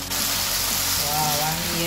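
Chicken frying in a pan for ayam kicap, a loud, close, continuous sizzle with a steady dense hiss throughout.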